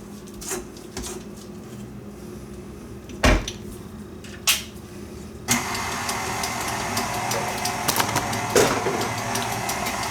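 A mixer working buttermilk biscuit dough starts up partway through with a steady, rough motor whir, preceded by a few sharp clanks of kitchen utensils and bowls.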